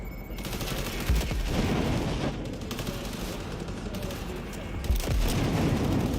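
Bursts of video-game gunfire in Cyberpunk 2077 rattle out in rapid volleys, with heavier booming shots landing around the second and fifth seconds, all fairly loud and close.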